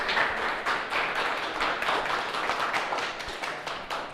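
Audience applause at a local historical society talk, a steady wash of many hands clapping at moderate distance, filling the room without a break and with no talking over it.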